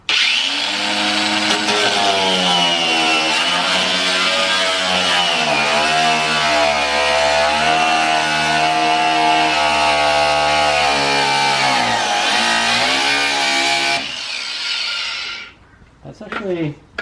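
A grinder runs loud and steady with a harsh, high-pitched whine that shifts pitch slightly as it works. It cuts off near the end, followed by brief quieter noises.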